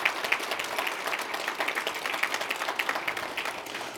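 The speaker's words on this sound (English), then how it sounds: "the logistics is all Mary Shea, so please give her a round of applause." Audience applause rises at a CES Government 2019 conference session: a dense, continuous crackle of many people clapping, fairly loud and even throughout.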